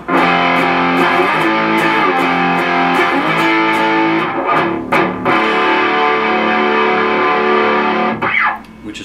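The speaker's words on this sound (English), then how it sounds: "you're going to switch on your distortion and you're going to sound like this." Heavy distorted electric guitar plays loud sustained power chords from a song with rhythmic picking, ringing thickly before cutting off near the end.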